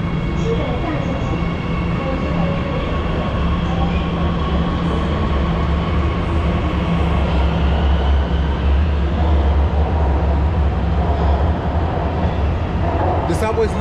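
A subway train in Shenzhen pulls out of the station with a steady, loud rumble and droning motor hum that holds throughout, with faint higher rail tones layered on top.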